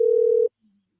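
A steady telephone dial tone sounds alone for about half a second, then cuts off abruptly, followed by near silence with a faint brief blip.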